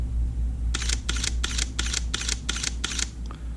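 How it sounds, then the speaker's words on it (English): A Sony A7S II mirrorless camera fires its shutter seven times in a steady burst of sharp, close mechanical clicks, each about half a second apart, over a low background hum. "shutter is working great."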